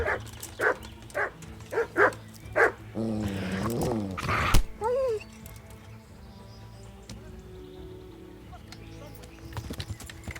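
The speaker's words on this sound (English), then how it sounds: "Yeah, a dog." A dog in the medieval video game Kingdom Come: Deliverance barks several times in a rhythmic series early on, fairly close, mixed with horse sounds and other game noise, followed by quieter ambience.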